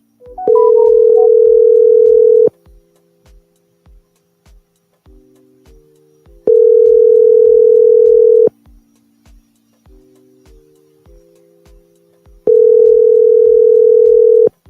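A telephone ringback tone plays three times, each steady two-second tone followed by about four seconds of silence over faint ticking; loud and close.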